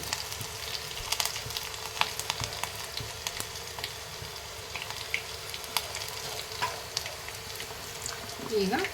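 Chopped garlic and curry leaves fry in hot oil in a pan while beetroot palya is being cooked. A steady close sizzle with crackling pops runs throughout, and a little stirring clatters in near the end.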